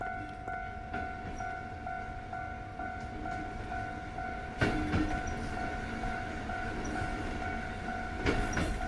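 Train passing a railroad crossing in Anomalous Railroad Crossing, a steady rumbling roll with a sustained warning-bell tone and two sharp clanks of wheels over rail joints, close and continuous.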